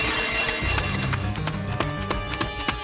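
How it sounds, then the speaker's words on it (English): An Indian Navy ship's alarm for an incoming air strike rings out across the vessel as a loud, continuous ringing bell that fills the whole stretch, with sharp clicks and knocks over it. "Once a radar contact is identified as an inbound hostile airstrike, an alarm is sounded around the ship."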